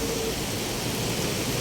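Sudden heavy rain pouring down outdoors in the city, a loud steady hiss of falling water that fills the whole moment without letup and carries no voices.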